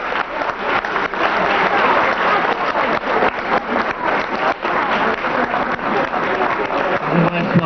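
Sustained applause from an audience at a 1991 meeting with Tadeusz Mazowiecki in a community hall in Bytów, dense and loud clapping filling the hall without a break.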